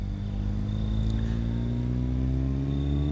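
A car drives in the video game State of Decay, its engine humming in a steady, unbroken mid-pitched drone with a constant tone throughout.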